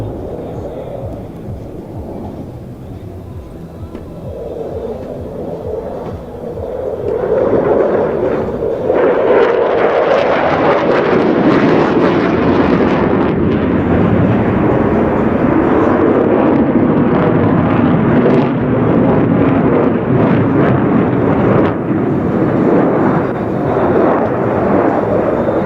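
A military jet roars past at an air show during NATO Days and Czech Air Force Days, flying a hard 9J turn; the rumble builds from a distant whine into a loud, sustained roar that holds to the end.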